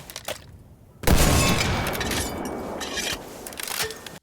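An AT-RG grenade launcher fires in a video game: a quiet lead-in, then one loud, close blast that rings out into a long, rumbling, crackling tail that slowly fades.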